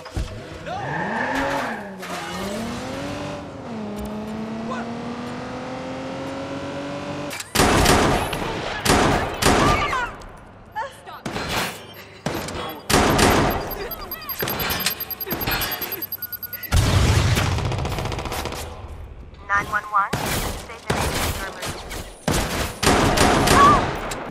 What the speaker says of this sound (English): the different sounds of vehicles all the way to the different weapons and fight sounds